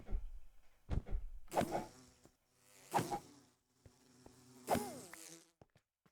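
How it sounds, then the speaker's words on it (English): A bee buzzes in the Minecraft modpack OceanBlock 2: a few whining, wavering drones that rise and fade in separate bursts, fairly quiet, with a couple of sharp clicks early on. "And then we kill the bee"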